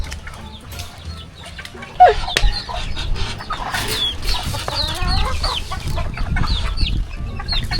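Several chickens cluck and chatter close by in an irregular, overlapping flurry, with a sharp knock near the start.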